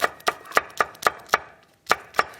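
Knife chopping green chili peppers on a cutting board: crisp, close, evenly spaced thuds in a quick rhythm, about nine strokes with one short pause partway through, no talking.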